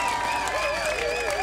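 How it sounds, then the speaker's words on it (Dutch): Audience applause for a band at the Akoestival 2019 festival in Woerden, a steady dense clapping wash with a faint voice or tonal line riding over it for the whole short stretch. "Geef ze een daverend applaus."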